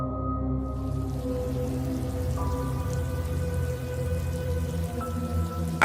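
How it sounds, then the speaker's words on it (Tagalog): Steady rainfall patters down as a sound effect in a horror story, with a dense, even spatter beneath a low droning backdrop and no voices. "inabot na rin kami ng ulan"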